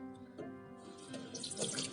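Tap water runs steadily onto a ceramic whetstone, a soft splashing flow that grows a little brighter and more turbulent toward the end, quiet and close, no voices.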